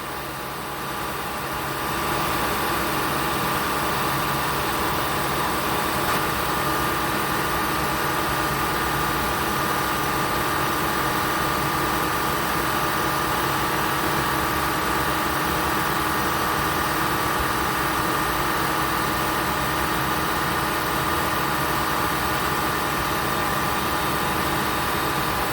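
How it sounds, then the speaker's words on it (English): A 2003 Honda Pilot engine held at 2500 RPM during an air-conditioning check, a steady, unbroken mechanical drone with an even hum that stays constant throughout, close and moderately loud. "I raised the RPM to 2500 RPM"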